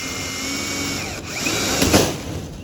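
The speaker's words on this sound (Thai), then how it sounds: "ครับพี่กดสว่านใช้ดีไหมดีครับ" A power drill whirs steadily and loudly up close while fitting metal sheet roofing for an awning, its motor pitch rising briefly near the end.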